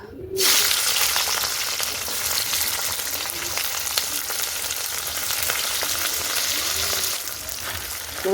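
Onions sizzle steadily in hot oil in a pan while being stirred, a close, continuous frying hiss with occasional scraping, and no talking.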